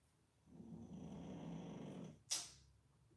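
A man snoring loudly at someone's feet: one long, rough inhaled snore lasting nearly two seconds, followed by a brief sharp puff of breath, close and alone.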